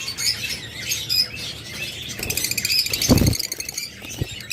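Budgerigars and lovebirds in a bird shop keep up a busy, overlapping stream of high chirps and squeaky calls, fairly close and continuous, with occasional louder squawks.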